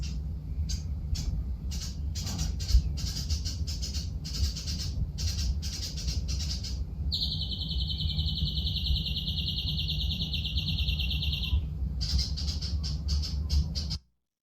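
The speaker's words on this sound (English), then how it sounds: "as the sun was coming up, some birds started chirping in the trees next to me" Birds chirping in trees at sunrise, with rapid clustered chirps and a sustained high trill over a steady low rumble, clear and fairly close, without speech.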